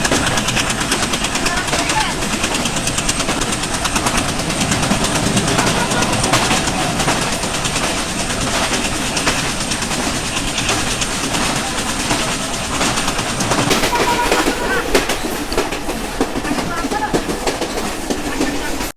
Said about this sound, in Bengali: রূপদিয়া স্টেশনে কোনো স্টপেজ না থাকার কারণে আমাদের ট্রেনটি কিন্তু থ্রু পাস করে চলে যাচ্ছে